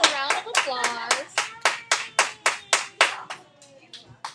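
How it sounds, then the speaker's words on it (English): A class of students claps in a quick, rhythmic unison beat of about a dozen sharp claps, with voices calling out over the first half before the clapping thins and fades. "Everybody give yourselves a round of applause for your awesome work."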